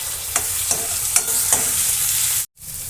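Tomatoes frying in a pan with steady sizzling, broken up by several light scraping stirs, then a brief sudden cutout of sound before the sizzle resumes.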